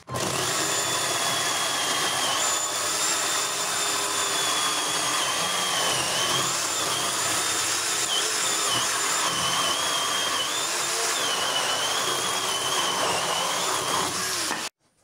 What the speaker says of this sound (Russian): Вот сейчас на дрова их пилю